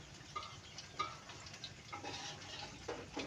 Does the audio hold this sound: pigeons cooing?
no